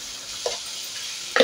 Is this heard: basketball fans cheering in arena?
no